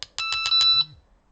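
Delkim Txi-D bite alarm pairing with its Rx-D receiver gives a quick run of five sharp, loud electronic beeps followed by a short lower tone, close and alone.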